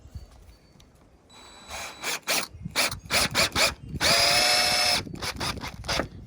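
Power drill bursts driving screws into wooden deck boards at a cabin's front deck rebuild, several short whirring runs followed by one longer sustained drive, close and fairly loud.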